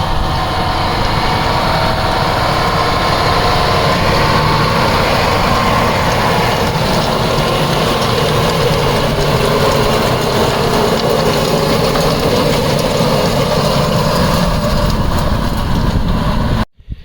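A tractor pulling a seed drill across low-input farmland in spring runs steadily, a loud continuous engine drone with rumbling mechanical texture, close and unbroken until a sudden stop at the end.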